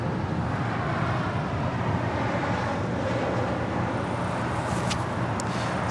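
A Breeze Airways Airbus A220 arrives at LAX, its jet engines a moderate, continuous rumble and hiss that holds steady throughout, with faint background noise.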